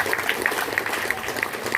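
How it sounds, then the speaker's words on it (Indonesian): An audience at a village community meeting gives scattered applause, with individual claps standing out irregularly over a murmuring crowd background. "Tepuk tangan untuk kami."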